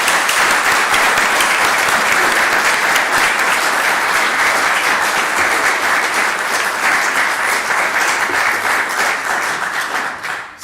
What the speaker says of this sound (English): So can you join me again in giving Bob a very large round of applause?